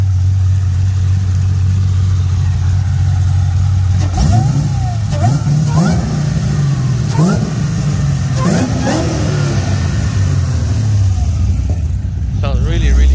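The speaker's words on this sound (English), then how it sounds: "I'm gonna get Roger to rev it up here in just a bit so you guys can hear it" A 2022 SVT Lightning truck with a high-compression engine idles with a deep, steady rumble, then revs sharply several times in quick succession before settling back to idle, loud and close.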